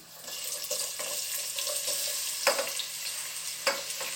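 Onions sauté in a pan for a Thalassery-style chicken dum biriyani, giving a steady, loud sizzling hiss throughout. A few sharper clatters from stirring break through the sizzle.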